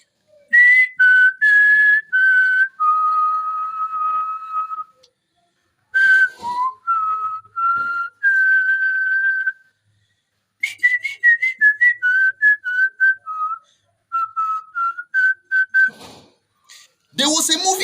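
A person whistles a slow, sorrowful melody in imitation of Nigerian movie soundtrack music, with a string of held, wavering notes broken by short pauses and a few breathy bursts, loud and close.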